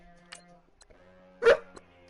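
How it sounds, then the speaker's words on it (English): A dog gives a single short, sharp bark at moderate distance in a quiet room, with a couple of faint clicks before it and a low background hum. "Don't you start barking!"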